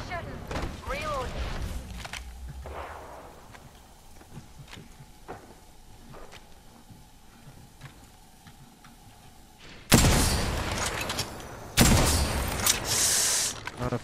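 Gunfire in the game Apex Legends, with loud, dense bursts of shots near the end following a quieter stretch where players talk.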